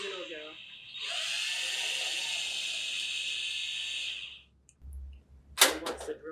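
An electric drill with its bit boring into the center of a homemade wax candle, a steady high whine running for about three seconds before stopping, followed by a few faint scrapes and clicks.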